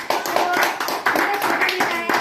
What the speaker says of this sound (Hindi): एक बार तालियां बजा सकते हैं।